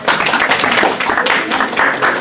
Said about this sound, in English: Round of applause for Juliet and Bolu.